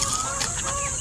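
Penned chickens cluck and squawk during feeding, several close overlapping calls with sharp rising notes over a steady background hiss.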